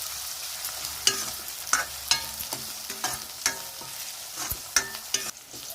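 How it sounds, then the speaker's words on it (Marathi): Spice paste for egg curry being roasted in a pan, with soft steady sizzling and repeated sharp scrapes and taps of a spoon stirring against the pan, close and clear without any talk. "आता सगळं व्यवस्थित भाजून घ्यायचं आहे"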